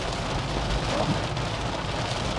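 Heavy storm rain pours down steadily, a dense unbroken hiss on surfaces that holds loud and even throughout, with no voices.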